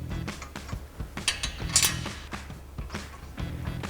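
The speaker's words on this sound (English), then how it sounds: "Tighten those back down with our 15mm swivel socket." Two 15mm caliper bracket bolts on a 2005-2010 Mustang are tightened with a swivel socket on a ratchet, giving close, steady runs of ratcheting clicks with a few creaks and clanks mixed in.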